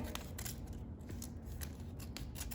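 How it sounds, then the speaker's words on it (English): Scissors trimming the excess paper off a folded Japanese fan, a quick series of faint, crisp snips and paper rustles repeating over a couple of seconds, heard alone. "If you want to take and trim off the excess, you can just trim it"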